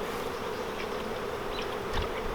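Honey bees buzz at a nuc hive in a dense, steady drone, close and continuous, with a few brief louder passes as single bees fly near.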